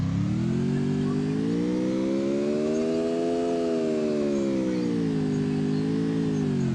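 Engine drone of a car weaving zigzag in Free Fire, a continuous tonal hum whose pitch rises and falls in slow swells as the vehicle steers, steady and fairly loud with no talk.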